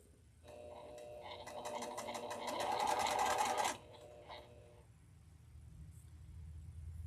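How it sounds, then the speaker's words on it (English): Sewing machine stitching quilt pieces, a short run of fast needle whirring that builds for a few seconds and stops abruptly, followed by quiet room noise. "I am going to sew a little bit slower so that I can line up these edges, those corners."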